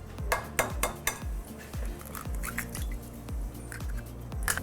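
Eggs and wet ingredients for chocolate olive oil brownies being mixed in a bowl, with a steady run of sharp utensil clinks and taps against the bowl, regular and close.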